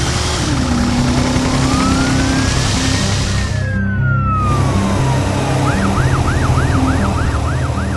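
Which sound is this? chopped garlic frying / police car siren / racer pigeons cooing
police car siren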